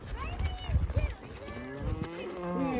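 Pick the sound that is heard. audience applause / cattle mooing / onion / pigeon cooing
cattle mooing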